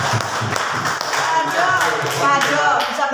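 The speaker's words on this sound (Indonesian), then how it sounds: "tepuk tangan semuanya untuk Bapak Ibu" A group of students and school staff clapping for their teachers in a classroom setting, an uneven patter of hand claps mixed with voices and murmuring throughout.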